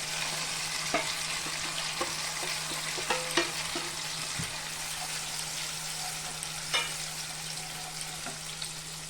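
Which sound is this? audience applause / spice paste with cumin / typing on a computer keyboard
spice paste with cumin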